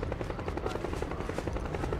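A helicopter in the video game Metal Gear Solid 4 gives a steady, fast rotor chop with a rushing engine whine, loud and continuous throughout, with no talking.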